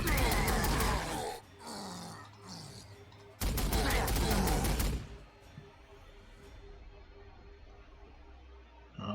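Two loud bursts of rapid automatic gunfire from Warhammer 40,000: Sanctus Reach, each lasting over a second and separated by a short lull, then a long quieter stretch of low battlefield rumble.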